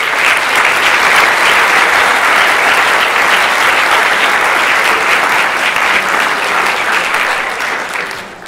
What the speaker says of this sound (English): give a nice round of applause to Dr. Paul Bizjak.